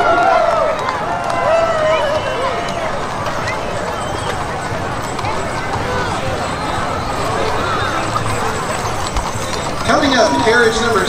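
Two horses pulling a carriage in a night parade in Lebanon, Ohio clip-clop steadily on the street, the hoofbeats continuous beneath crowd hubbub and an announcer's voice.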